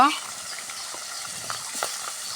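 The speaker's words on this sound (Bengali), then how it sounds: "সুন্দর করে মাছটা আমরা আগে ভাজে নিব" Fish fries in a pan with a close, steady sizzle and a few soft pops, after a brief clipped sound at the very start.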